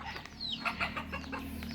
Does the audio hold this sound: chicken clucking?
yes